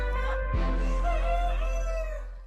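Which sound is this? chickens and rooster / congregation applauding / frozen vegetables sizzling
chickens and rooster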